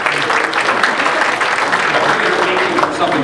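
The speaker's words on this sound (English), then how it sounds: "Maybe give yourself a round of applause." A conference audience at an SAE Detroit industry address breaks into a round of applause, dense and steady claps filling the room loudly for a few seconds with no gaps.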